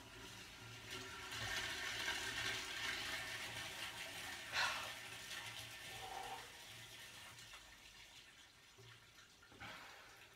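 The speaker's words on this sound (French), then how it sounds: "Oh, ça tire la chasse." A toilet flushes in an apartment under full renovation, a steady rushing of water that runs close and fairly strong for several seconds before fading into a quieter trickle and refill, with a couple of faint knocks.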